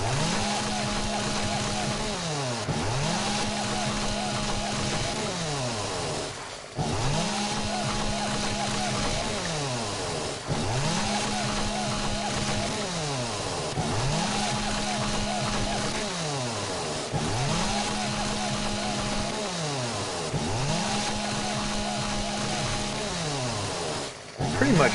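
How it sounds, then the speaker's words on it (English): In the survival video game 7 Days to Die, a 600 chainsaw fells trees in a long series of loud, buzzing rev cycles, each climbing, holding through the cut, then sagging before the next. "Luckily, the 600 chainsaw makes pretty quick work of the trees."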